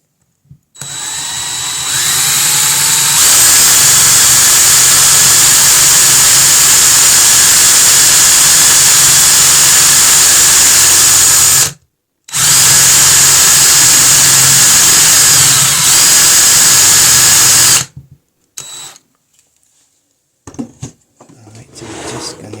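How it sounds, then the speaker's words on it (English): A power drill runs steadily for about eleven seconds while a bit is lined up with a hole during a DIY propagation station build, stops briefly, then whirs again for several seconds before cutting out to near silence. "I'm going to try and align this drill bit with the hole there."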